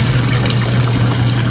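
Hot water and boiled eggs poured into a colander make a loud, continuous rushing and splashing that runs through the whole moment, close up with no talk.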